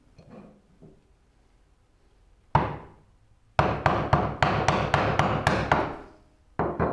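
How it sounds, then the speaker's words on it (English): A small chisel is struck into wood while building a rolling cabinet base: a single sharp knock, a pause, then a rapid run of about eight loud, evenly spaced hammer blows and one more at the end. "that one needs to be hit with a smaller chisel"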